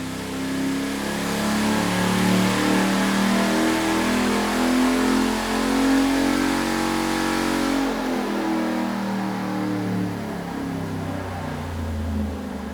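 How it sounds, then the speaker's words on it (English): Formula One car engine revving loudly and continuously, pitch rising and falling in sweeps through the passage, with no voices. "we've just been listening to some engine noise"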